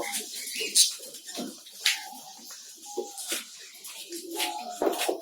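Lovebirds and pigeons at a village bird farm in Rangpur, with scattered close chirps and short calls, soft shuffling and wing rustles between them, fairly quiet with no talking.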